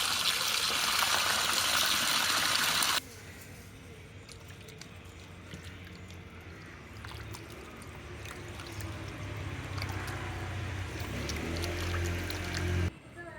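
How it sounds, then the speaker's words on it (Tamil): Young goat mutton pieces being rinsed and swished in water by hand, wet sloshing and squishing close up, with a louder splashing pour at the start. "அதை முதல்ல நல்லா தண்ணியில் அலசி க்ளீன் பண்ணி எடுத்துக்கலாம்."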